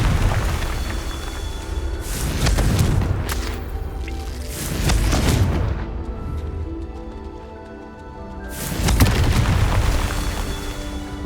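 The Confringo fire-blast spell in Hogwarts Legacy hits repeatedly with deep, booming explosions that rumble and fade, roughly four blasts spaced a few seconds apart.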